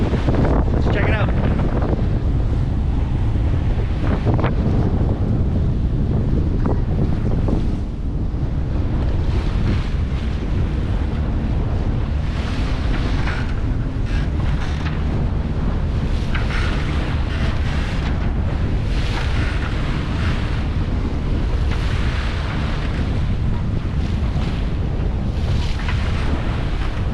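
Aboard a Lagoon 56 sailing catamaran at sea, steady wind roars across the microphone while waves slap and rush against the hull head-on, loud and constant, with faint voices underneath.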